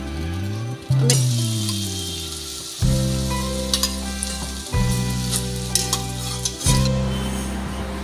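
Cauliflower sizzles and fries steadily in a nonstick kadai, with several louder surges of hot-oil crackle recurring every couple of seconds, close and fairly loud, with no voice.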